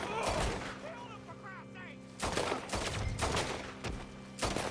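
Pistol shots in the video game Red Dead Redemption 2: a handful of loud, close cracks spaced about a second apart, each followed by a short ringing tail, over a busy backdrop of faint whistles and noise.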